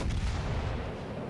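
Naval gunfire from a warship in World of Warships Legends, aimed at the Koenig: dense, loud, rumbling booms with a sharp crack near the start, heavy low-end rolling continuously across the short burst.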